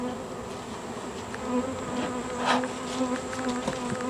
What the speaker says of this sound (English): the bees are out in force today and they're getting a little wild here